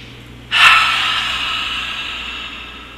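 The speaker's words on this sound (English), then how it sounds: "So let's start with an inhale and then, and then we inhale." A single deep, loud inhale drawn through the nose during a qigong breathing exercise, starting sharply and then tapering into a long airy breath with no speech.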